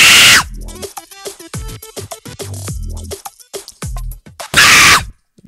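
A man's loud, strained scream breaks out at the start and again near the end, with rapid clattering, chopping noises in between.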